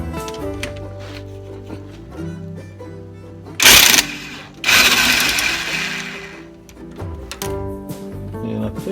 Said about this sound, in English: Take them out with the impact